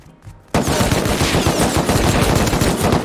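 Sustained AK rifle fire in the survival game Rust, a loud, dense and continuous volley that bursts in abruptly after a quiet moment and keeps hammering without a break.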